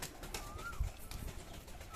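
Madrasi pigeons, young birds kept for sale, coo softly in a loft, with a faint low warble and a brief gliding call over quiet background noise.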